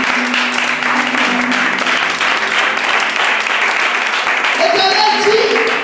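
A church congregation applauds and acclaims the Lord with dense, continuous clapping and cheering voices that fill the room at steady volume throughout.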